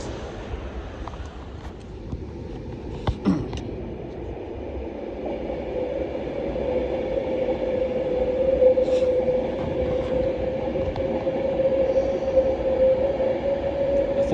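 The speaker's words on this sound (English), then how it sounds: "And 350-124, which will later form the 1446 London North Western Railway service to Crewe." A London Northwestern Railway Class 350 electric multiple unit, number 350-124, passes at Primrose Hill, its steady rolling rumble and a rising whine building and holding, with a brief sharp clank near the start.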